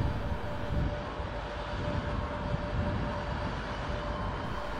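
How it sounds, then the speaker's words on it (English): Class 86 electric locomotive easing toward the platform end at London Euston, a steady low rumble and hum with a faint tonal whine running throughout, moderately distant and without talk. "In the background, yet another Class 86 makes its way to the platform end"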